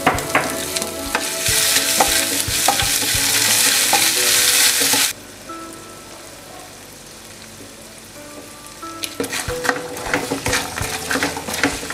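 Chopped ginger hits hot oil with mustard and fenugreek seeds for a mango pickle. A loud, dense sizzle lasts about five seconds, then drops to a low crackle broken by scraping stirs. There is no talking.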